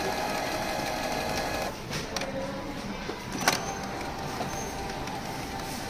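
A Canon G-series inkjet printer, G3010, G2010 or G1010 model, runs an ink flush with a steady mechanical whir and hum, broken by a few sharp clicks and knocks, close and continuous.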